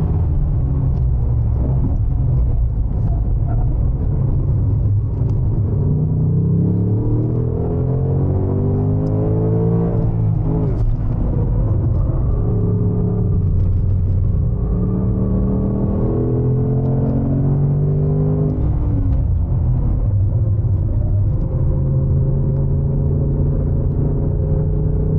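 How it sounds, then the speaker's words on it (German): A Ford Mustang rolls in fourth gear on a race track, with a loud, steady engine rumble and drone that shifts slightly in pitch as the car coasts, close and continuous. "hier lassen wir jetzt im vierten einfach mal rollen"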